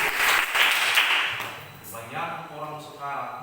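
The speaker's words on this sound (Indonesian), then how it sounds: "silakan dulu tepuk tangan dulu ya." Audience clapping hands in a classroom teaching session, a burst of scattered claps that fades out after about a second and a half, followed by a voice speaking.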